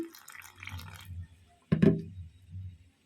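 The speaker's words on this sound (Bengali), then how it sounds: "অল্প একটু জল দিয়ে দিলাম" A small splash of water pours into flour dough in a bowl, one short wet burst standing out amid quiet handling noises.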